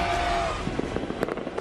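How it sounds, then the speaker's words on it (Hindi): Firecrackers bursting during Diwali in Delhi, a scattered series of sharp pops and crackles that grow more frequent toward the end over a steady background hiss. "लोग पटाखे फोड़ते हैं"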